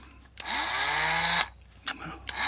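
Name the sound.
drilling a part for a 2MT model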